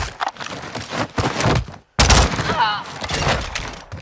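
Rapid pistol gunfire from a dual-wielded akimbo pair rings out during a Lara Croft finisher in Modern Warfare 2, with sharp cracking shots in bursts around a brief silent gap and voices mixed in.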